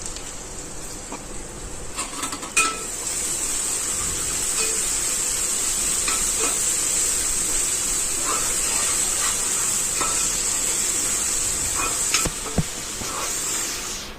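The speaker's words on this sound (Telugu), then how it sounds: "అది బాగా కలుపుకొని బ్రౌనిష్ కలర్ బాగా వేగాక నూనె తేలే వరకు ఉంచుకోండి." Curry masala for fish curry frying in oil in a pan, a steady bright hiss of sizzling oil with scattered stirring scrapes and a couple of louder clinks, no talking.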